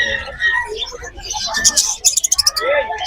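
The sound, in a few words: budgerigars chirping in aviary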